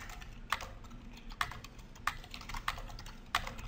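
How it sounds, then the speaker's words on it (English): Sparse keystrokes tapped on a computer keyboard, five distinct clicks spaced irregularly over a quiet, steady room hiss. "and type in my book title, which is Your First Dog with Otis Johnson."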